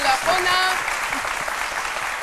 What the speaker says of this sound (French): On applaudit très fort Jean-Michel.